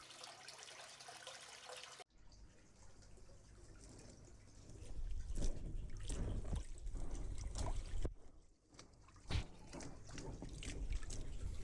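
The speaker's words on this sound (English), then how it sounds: "The water circuit seems to run very well and all pipe connections are tight." Water circulates through a pumped brush biofilter on a foldable koi basin, making a soft, continuous trickle and splash that swells and dips with occasional louder drips.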